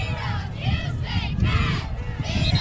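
Loud, steady crowd noise fills the stands at a Cody at Riverton high school football playoff game in Wyoming, a continuous roar of many voices with shouts rising and falling throughout.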